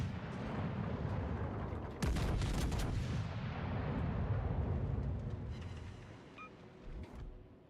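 Gunfire aimed at the player in a tier five one-versus-one video game match: a continuous heavy rumble of shooting, with a sharp burst of loud cracks around the middle before the noise gradually fades.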